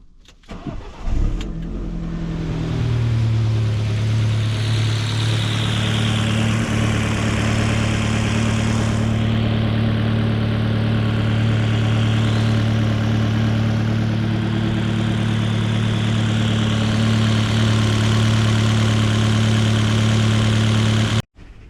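An Alfa Romeo Mito petrol engine, freshly fitted with a new turbo and recently treated for an exhaust manifold leak, starts and settles into a steady, loud, close-up idle with a deep, even drone that holds for about twenty seconds before cutting off.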